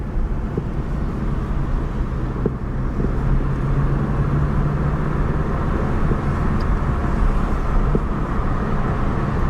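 Car interior while driving in traffic near rush hour, a steady low road and engine rumble with faint passing traffic, continuous and fairly loud throughout, no talk.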